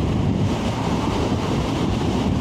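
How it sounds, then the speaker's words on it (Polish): Strong wind buffeting the microphone, a loud continuous low roar without breaks or voices. "duży wiatr jest dzisiaj"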